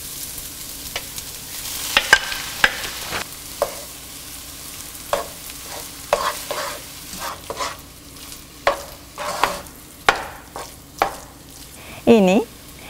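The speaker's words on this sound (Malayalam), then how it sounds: "ഇതിലോട്ട് ഇനി നമ്മൾ ക്ലീൻ ചെയ്ത് വെച്ചിരിക്കുന്ന മീൻ മുട്ടയിട്ട് മിക്സ് ചെയ്യുക" Spatula stirring fish roe into a grated coconut mixture in a pan, a run of scraping strokes with soft sizzling underneath, close and moderately loud, repeated in uneven bursts.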